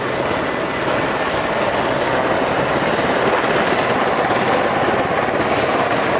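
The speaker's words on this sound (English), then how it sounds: "They've marked the landing site for the helicopters which are coming in now." A loud, continuous roar of helicopter rotors as helicopters come in to land during a commando assault display at Yeovilton Air Day 2013, steady and close, with no voices heard.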